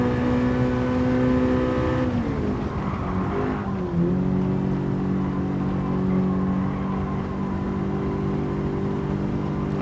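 A front-wheel-drive Japanese sports car engine races at a steady high pitch in Gran Turismo 7, its tone dropping sharply as the driver shifts, then holding a loud, sustained drone alone.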